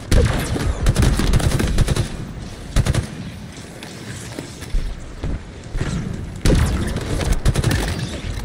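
Gunfire in the Halo video game: loud, dense bursts of automatic fire and single shots, with heavier booming blasts around the three-second and six-and-a-half-second marks, close and continuous throughout.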